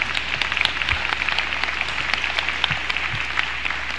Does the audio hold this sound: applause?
yes